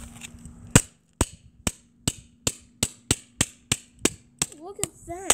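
A hammer hits objects in a series of about a dozen sharp, loud, close impacts at an irregular pace, spaced roughly half a second apart, with a few brief squeaky sounds near the end.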